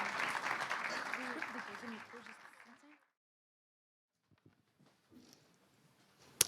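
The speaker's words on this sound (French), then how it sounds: "on peut les applaudir" Audience applause at an evening education event on violence prevention, lively clapping mixed with talk and crowd voices that fades out after about three seconds, followed by near silence and faint scattered sounds.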